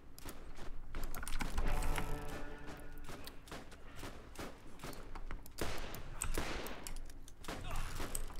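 Gunfire from Borderlands, fired against a boss creature, comes as dense repeated bursts and rapid shots mixed with game effects, running steadily throughout under intermittent talk from players.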